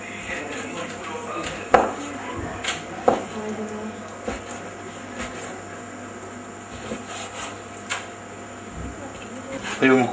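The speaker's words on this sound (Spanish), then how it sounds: "Vamos a cortar en cubos las pechugas de pollo." Knife chopping chicken breasts into cubes on a board, a few sharp cuts with quieter scraping between them, heard beneath a person talking.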